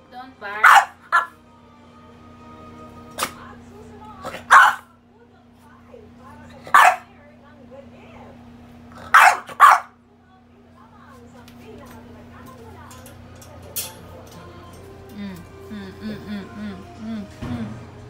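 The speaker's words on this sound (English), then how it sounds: "Don't bark." A French bulldog barks sharply about five times, fairly close, then whimpers and grumbles softly, while a person talks over a low steady background hum.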